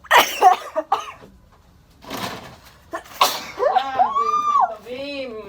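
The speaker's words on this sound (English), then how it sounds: "I have to sneeze." A woman sneezes during a Covid-19 nasal swab test, giving a few sharp explosive bursts at close range. Coughing and talk from people in the room come before and after.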